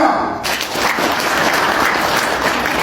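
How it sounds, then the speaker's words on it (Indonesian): Audience applause from a seated crowd at a talk on parenting, with dense, sustained clapping at close range and no voices over it. "Tepuk tangan dong."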